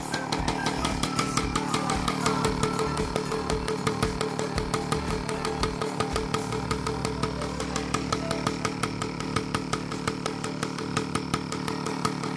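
A Yamaha PW50 two-stroke engine, freshly rebuilt with a big bore kit, runs steadily nearby with a loud, buzzing, rapid-firing putter. It holds a fairly even pitch throughout with no talk over it.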